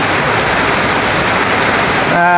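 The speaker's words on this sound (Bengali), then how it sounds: "বৃষ্টি হচ্ছে অনেক দৃশ্যটা সুন্দর মনে হচ্ছে" Heavy rain pours down in a loud, dense, continuous roar, close and unbroken, with a brief tonal sound at the very end.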